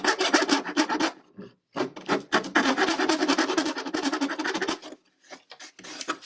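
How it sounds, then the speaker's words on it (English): A rasp files wood on an antique furniture piece in fast, rhythmic rough strokes, loud and close, in bursts separated by short pauses. "Musical rasps."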